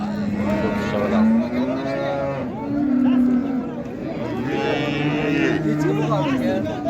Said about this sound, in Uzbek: Ho'kizcha balasi.